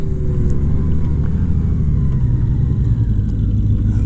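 A Honda Goldwing motorcycle engine rumbles steadily while riding at night, a loud, constant low drone with road and wind noise and no talking.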